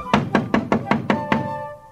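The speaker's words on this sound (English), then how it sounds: "Then, a harsh knocking cut our celebration short." Seven sharp, evenly spaced knocks strike a door in quick succession, loud and close, with a faint lingering tone fading after the last blow.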